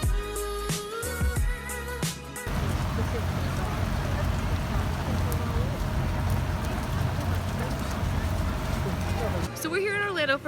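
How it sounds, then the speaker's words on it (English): Heavy rain pouring at Toy Story Land in Orlando, a loud, steady wash of downpour filling the middle of the clip, with voices talking before and after it. "It is pouring rain."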